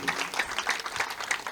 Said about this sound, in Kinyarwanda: Data mumukomera amashyi.